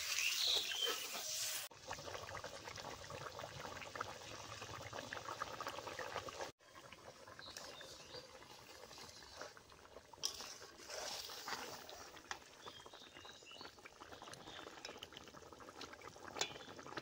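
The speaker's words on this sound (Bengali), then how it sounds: "সবজিগুলো খুব সুন্দর সেদ্ধ হয়ে গেছে" Vegetables boiling in water in a pan, a quiet continuous bubbling simmer with faint crackles and a few brief cut breaks, no voices.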